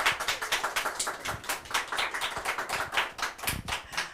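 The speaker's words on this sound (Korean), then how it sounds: "한 번 더 박수 부탁드려요." Audience applause follows a Korean traditional gayageum and geomungo music performance at a composer's concert, a dense, continuous patter of many hands clapping at close range without talk.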